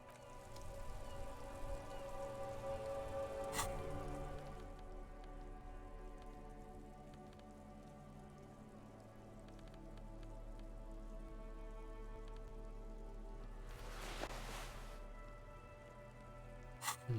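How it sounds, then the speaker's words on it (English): Steady rain falls throughout a Disco Elysium game scene, an even hiss with drops pattering on a surface, joined by a sharp tonal ping early on and a brief louder splash of noise near the end. "This rain will not let up anytime soon."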